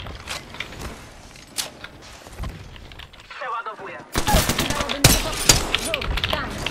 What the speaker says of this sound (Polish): Zauważyli mnie. Jestem pod ostrzałem.